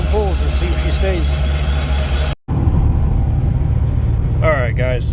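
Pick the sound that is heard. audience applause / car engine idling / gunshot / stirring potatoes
car engine idling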